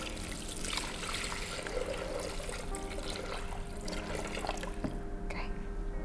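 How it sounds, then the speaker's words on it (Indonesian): About 800 ml of water poured into a cooking pot holding sauces, making a steady trickling, splashing wash for several seconds with faint background noise and no talk. "Sama air 800 ml."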